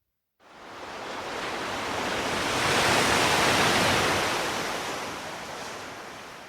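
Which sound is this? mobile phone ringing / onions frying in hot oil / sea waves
sea waves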